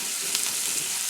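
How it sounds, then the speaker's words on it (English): Onions and peppers are sauteed in a pan, giving a steady close sizzle with a couple of brief stirring scrapes, one sharper clack near the end of the short stretch. "So we're going to saute this down for about 3 to 4 minutes"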